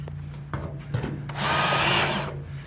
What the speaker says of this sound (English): I got that little countersinking tool, deburring tool that I used yesterday, and I'm just going to come in a couple of spins like that